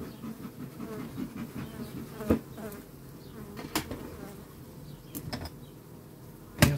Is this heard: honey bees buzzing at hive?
yes